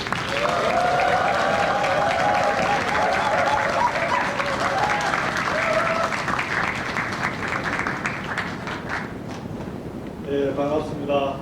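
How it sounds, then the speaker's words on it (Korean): Applause from a crowd at a talk concert, loud and sustained for several seconds before thinning out, with a voice speaking over the tail end. "여러분 힘찬 박수 부탁드립니다."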